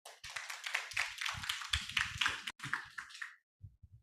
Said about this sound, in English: Please big applause for him.